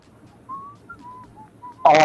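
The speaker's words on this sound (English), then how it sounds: "Somebody's whistling." Thin, wavering whistled notes drift in short separate phrases, fairly quiet, before a louder burst of noise cuts in at the end.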